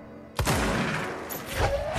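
Gunfire in the video game Control: a sudden loud burst of shots that rolls into a sustained, dense barrage of blasts, with booming low end, lasting most of the two seconds.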